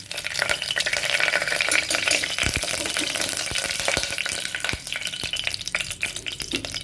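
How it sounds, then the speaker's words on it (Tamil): A single bay leaf crackles and sizzles in hot oil inside a pressure cooker, a bright continuous frying hiss punctuated by sharp pops and occasional clicks of a stirring utensil against the metal. "இப்போ குக்கரில் வந்து எண்ணெய் ஊற்றிட்டேங்க. எண்ணெய் காஞ்சிருச்சிங்க. ஒரே ஒரு பிரியாணி இலை மட்டும் தாளிப்பு போட்டு"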